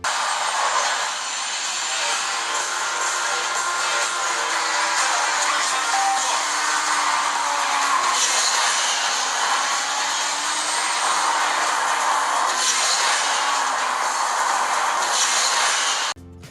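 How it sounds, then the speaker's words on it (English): Asphalt 9 racing game played on a Blackview Oscal Pad 10 tablet: a loud, continuous roar of engines and rushing wind with shifting whooshes and surges, no one speaking. "The first game is Asphalt 9."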